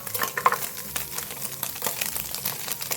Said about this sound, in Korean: 지금 지글지글 끓고 있죠 기름이